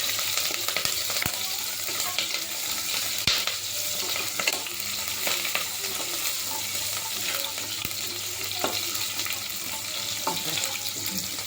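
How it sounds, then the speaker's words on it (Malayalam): Chopped green chillies sauté in a hot pan for a curry, giving a steady close sizzle and hiss with scattered scraping clicks from stirring and no talking. "ഇതൊന്നൊരു പച്ചമണം വരുന്ന വരെ ഒന്ന് വഴറ്റിയെടുക്കാം."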